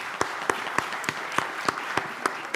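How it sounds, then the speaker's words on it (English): An audience applauds conference panelists at an adult learning and education opening session, fairly soft clapping with several crisp, evenly spaced claps standing out. "Join me in just giving a good round of applause to our panelists."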